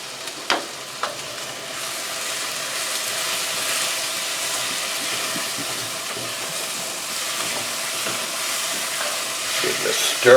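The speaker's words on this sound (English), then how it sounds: "Give it a stir." Chicken frying in a pan for Szechuan chicken, with brown sugar just added, stirred with a steady sizzle and a couple of sharp scrapes near the start. The sizzle holds at an even, close level, with no talking.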